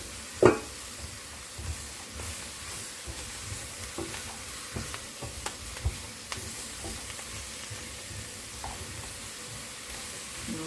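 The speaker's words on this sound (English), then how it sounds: "And I'm going to put in the carrots. I'm going to stir everything." Carrots and other vegetables sizzle in a pan while being stirred, a low steady frying hiss broken by occasional scrapes and clicks of a utensil against the pan.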